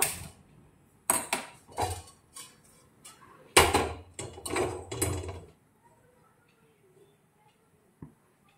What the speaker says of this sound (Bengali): গ্যাসের ওভেনটা চালু করে দেব, আর এর মধ্যে কড়াইটা আমি বসিয়ে দেব।